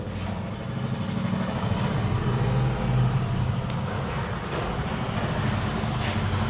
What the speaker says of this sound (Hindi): कभी कभी ट्रैफिक चलता है तो ट्रैफिक की आवाज़ आ रही होगी